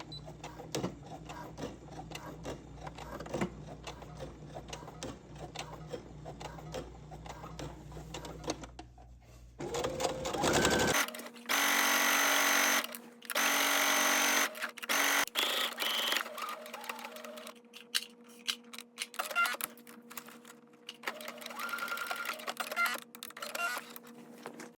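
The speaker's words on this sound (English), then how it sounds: "then you're going to stitch across the bottom 4/8 of an inch from the edge" Sewing machine stitching across the bottom of a wrap dress, a steady mechanical whir that runs for long stretches, then speeds up into louder, choppier bursts with brief pauses.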